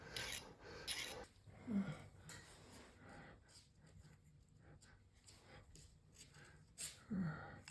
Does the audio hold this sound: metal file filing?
yes